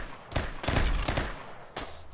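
Rapid bursts of gunfire in the modded colony-building video game RimWorld Beta 19, several loud sharp shot clusters close together with brief gaps, no talking over them.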